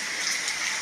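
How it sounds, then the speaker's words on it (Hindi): Heavy monsoon rain pouring in Vadodara, a dense continuous hiss of drops on surfaces with flooded water below, steady and close for a brief moment. "ये देखो बड़ौदा की बारिश"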